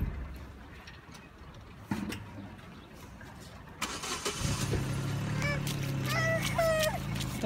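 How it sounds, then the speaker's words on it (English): A car starts up nearby and pulls away, its engine rising into a steady low rumble with broadband noise; a voice and an adult's speech are heard over it. "The car is leaving."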